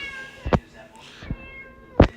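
A cat meows a few times, short separate calls close by, with quiet room noise between them.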